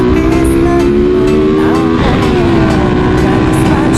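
Honda EX5 motorcycle engine fitted with a CDT racing CDI, revving loudly and steadily up close with a strong harmonic drone and a brief rise in pitch midway.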